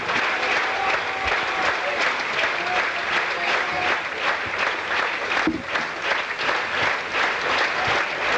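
Cricket crowd at Colombo's P. Sara Stadium applauding Roy Dias's innings of 77 for Sri Lanka against England in 1982, steady, dense clapping and crowd noise that holds throughout.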